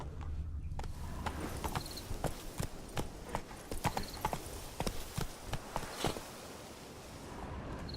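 A horse gallops in The Witcher video game, its hooves producing a steady rhythmic clip-clop close up, over constant outdoor ambience, with the beats fading out near the end.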